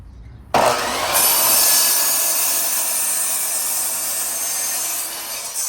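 A handsaw cuts through plywood in a continuous, close, rasping stroke that starts abruptly and runs steadily for several seconds.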